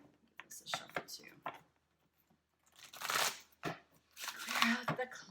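Tarot cards shuffled by hand in bursts of crisp riffling and slapping, with short pauses between, close and fairly quiet.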